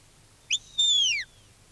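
A shepherd's stop command whistle to a sheepdog at a 1970s sheepdog trial: a brief sharp chirp, then a held piercing tone that slides downward, loud and clear against quiet outdoor background.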